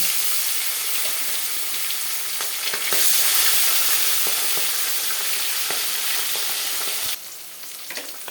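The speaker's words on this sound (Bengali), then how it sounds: "তেলটা পুরো গরম হয়ে গেছে, এবার আমি একটা একটা করে মাছ ভেজে নেব।" Tilapia fish fries in hot oil, a loud, close, continuous sizzle with scattered spatters and pops that swells midway, then drops to a lighter hiss near the end.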